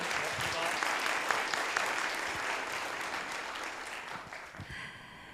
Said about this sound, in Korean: 여러분 다시 강연 수고해 주신 우리 위원장님께 큰 박수 부탁드리겠습니다.